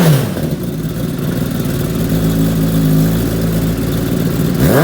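Kawasaki ZX10R KRT ABS sportbike from 2018 with a Lextec exhaust and D-cap, its engine running loud and close throughout, with a rising rev and sustained throttle and no talk over it.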